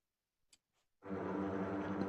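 A couple of faint ticks, then a sustained, rich sampled orchestral string section chord in a DAW swells in and holds steady, loud and full.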